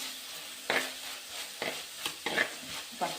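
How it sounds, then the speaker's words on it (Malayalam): Crushed garlic and ginger fry in a pan for an Andhra-style prawn curry, a soft sizzle under repeated scraping stirs of a spoon, close and without speech. "വെളുത്തുള്ളി ഇഞ്ചിയുടെയും പച്ച മണം ഒന്ന് പോകുന്നത് വരെ ഒന്ന് നമുക്ക് ഇളക്കി കൊടുക്കാം"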